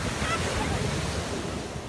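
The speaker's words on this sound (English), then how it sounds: "So the waves keep crashing as we await Mother Nature's arrival this weekend" Ocean surf pounds a beach under strong pre-storm winds, a continuous dense roar of crashing waves with steady wind rumble across the microphone, no pauses.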